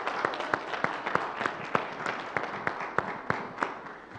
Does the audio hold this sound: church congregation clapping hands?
yes